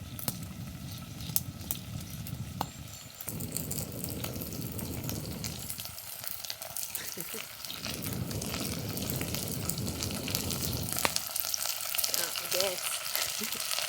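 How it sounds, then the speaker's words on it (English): Steady crackling sizzle of meat frying in a hot pan over a campfire, continuous throughout, with occasional scrapes and clinks of utensils stirring. "So you can hear a bit of a sizzle in there."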